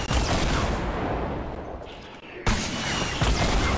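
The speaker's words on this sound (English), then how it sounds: "Oh, they got a grenade launcher." A grenade launcher fires and explodes in Fortnite, heard as a dense, roaring barrage of blasts that briefly thins and then booms back in loudly.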